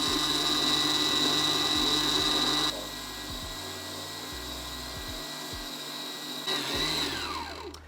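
A KitchenAid stand mixer whips an eggnog mixture of eggs in a bowl, a steady close motor whine and whir that drops in speed partway through, then rises again near the end, with no talking.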